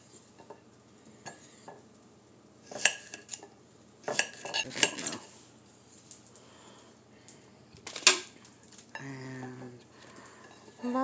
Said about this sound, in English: I'm going back to cutting my squash.